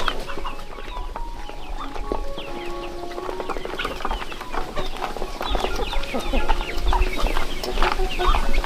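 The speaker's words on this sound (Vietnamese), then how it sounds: "Gà chân đỏ đẹp không ấy chứ." Red-legged chickens cluck steadily on a farm, with a rooster and other fowl calling in layered bursts against constant outdoor background noise that grows slightly louder toward the end.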